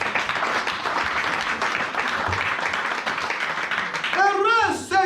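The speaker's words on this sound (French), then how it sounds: "Acclame Jésus." A church congregation bursts into sustained applause, a dense wash of clapping from many hands, with a voice calling out over it near the end.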